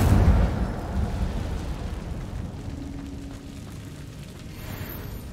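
Incendio fire spell cast in Hogwarts Legacy, a loud fiery whoosh and burst at the start that rumbles and fades over several seconds.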